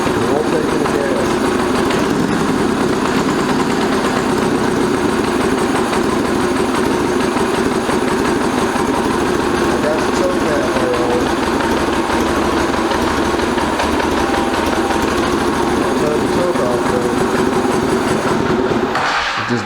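A 1985 Honda Goldwing GL1200 motorcycle engine barely running after a carburetor rebuild, a steady rough, loud idle that continues for about nineteen seconds and then cuts out at the end.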